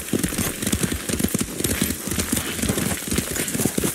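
Horse hooves thud in quick, regular clip-clop beats during a ride in Ghost of Tsushima, close and prominent over faint ambient noise.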